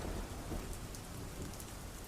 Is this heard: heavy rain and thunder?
yes